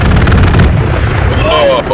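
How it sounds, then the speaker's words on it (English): An aircraft strafing run in the Hell Let Loose video game brings loud, heavy explosions and booming impacts, one dense blast after another, over two seconds, with a shouting voice caught in the din. "we just got strafed!"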